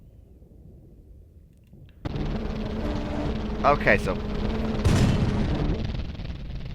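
Tank cannons and engines in the tank-building video game Sprocket: a sudden loud rumbling boom kicks in, followed by a sustained heavy roar with a couple of sharper blasts, while someone talks over it.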